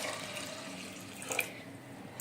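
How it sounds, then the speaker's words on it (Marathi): Hot water poured into a pressure cooker over washed chana dal, a steady close splashing pour that swells briefly near the middle before settling, with no talk. "त्याच्यामध्ये मी हे गरम पाणी केलंय ते ओतते"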